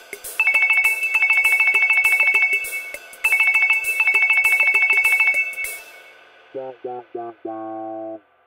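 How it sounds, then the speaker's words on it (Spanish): A new mobile phone's ringtone in a children's cartoon plays a bright, repeating electronic trill in two loud phrases, then a short run of descending melodic tones to finish. "Lo primero es elegir un buen tono de llamada."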